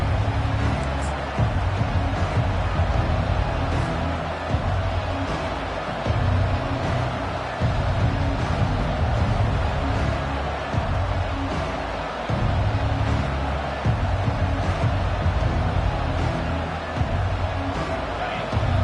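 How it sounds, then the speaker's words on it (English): A packed football stadium crowd roars in a loud, sustained wash of cheering at a kickoff, swelling in waves, while a commentator talks over the top. "This crowd, full throat, splitting the eardrums and letting them know it's going to be a long day."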